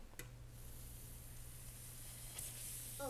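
Green tomatoes frying in hot oil give a steady, quiet hiss of sizzling that runs through the whole stretch, with a low hum underneath and no talking.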